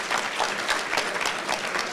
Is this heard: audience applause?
yes